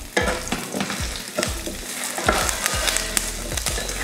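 Dal, onion and tamarind frying together in a pan for a coconut-free chutney, with a crackling sizzle and repeated spatula scrapes and knocks against the pan, fairly close and busy, no talk.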